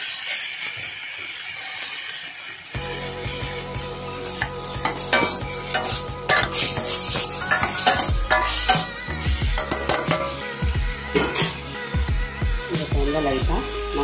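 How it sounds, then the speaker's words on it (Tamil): Tomatoes and spices sauté in a pan for a fish curry, a bright sizzle with busy scraping and clinking of a spoon stirring against the pan, close and fairly loud, with tonal sounds underneath. "இப்போ நம்ம நல்லா வதக்கி விடலாம் நல்லா தக்காளி சுருண்டு வரணும்"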